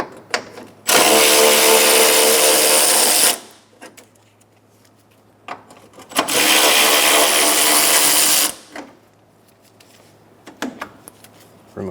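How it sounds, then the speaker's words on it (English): A power tool with a 12mm socket spins out radiator bracket bolts on a 2012-2016 Subaru Impreza, two loud sustained whirring bursts of about two to three seconds each, close up, separated by quiet clicks. "Using a 12mm socket, I'm going to remove the radiator holding bracket bolts."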